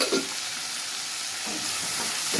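Broad bean pieces and onions cooking in oil in a pan, a continuous close hiss and sizzle with a few soft stirring knocks, no talking.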